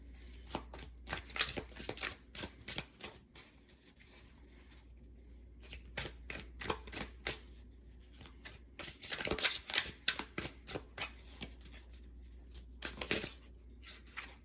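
Tarot cards being shuffled and drawn, giving a long run of crisp riffling flicks and soft card slaps, bunched in quick bursts with short pauses between, close and fairly quiet.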